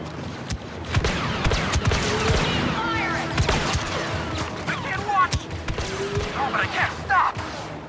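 Blaster fire in a Star Wars Battlefront 2 firefight against stormtroopers, repeated bursts of shots and impacts over a busy game soundscape, with voices talking throughout.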